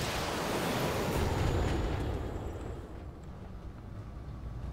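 Sustained heavy rumbling blasts from weapons fire hitting a building in the video game Roguepoint, a loud dense barrage that swells then gradually fades, with no talk.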